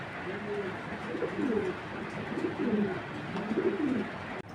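Kittel pigeons coo in a steady series of low, rolling calls, close by and moderately loud, with faint background noise throughout.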